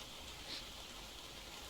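Rain falls in the survival game ARK, a faint, steady hiss of drops with no speech.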